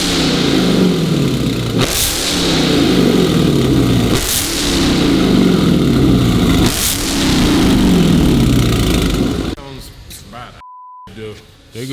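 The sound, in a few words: Dodge car revving with new loud aftermarket exhaust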